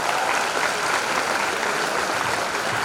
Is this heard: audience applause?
yes